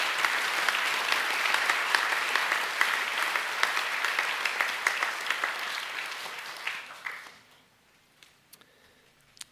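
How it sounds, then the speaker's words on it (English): Hall audience at a school academic awards evening giving sustained applause for the nominees, dense and steady before tapering off and dying away to a few scattered claps in near silence. "can we please give a round of applause to all the vet nominees"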